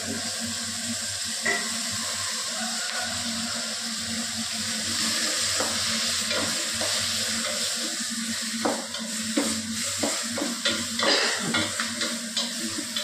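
Onions and tomatoes frying in a pan with turmeric, salt and green chillies, a continuous sizzle overlaid by scraping stirs that grow busier and more rhythmic toward the end, close and clear with no talk.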